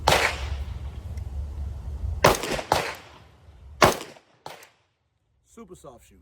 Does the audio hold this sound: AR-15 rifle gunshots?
yes